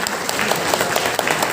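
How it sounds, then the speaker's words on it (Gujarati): Applause at a Brahmin community honours ceremony in Navi Mumbai, welcoming a guest newspaper editor from Surat: brief, loud, dense clapping from a crowd, steady throughout. "જોરદાર તાળીઓ સાથે એમનું સ્વાગત કરીએ."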